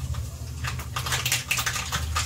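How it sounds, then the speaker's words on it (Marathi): Mustard seeds spluttering and popping in hot oil in a home kitchen while cooking carrot bhaji, a dense run of quick crackling pops over a low steady hum, close and fairly loud with no talking. "तेल गरम झालेलं आहे। आता यामध्ये आपण मोहरी टाकून घेऊया।"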